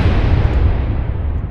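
A BTR armored vehicle explodes during a military field training exercise: a loud, deep, broad rumbling blast that rolls on and slowly fades over about a second and a half.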